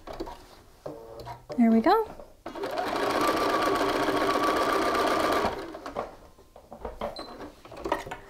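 Sewing machine running a few seconds of continuous stitching on a shirt collar, a steady mechanical whir between short pauses, with a voice speaking briefly before and after.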